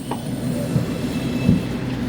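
A crowded LRT Line 1 light rail train carries on with a steady low rumble and faint wheel noise, loud and continuous, with no voices.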